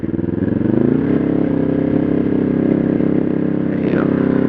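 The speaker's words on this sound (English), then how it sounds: "Ew, that was a bad downshift." A motorcycle engine revs through a rough downshift, a loud steady close drone with pulsing exhaust rumble and a brief pitch shift near the end.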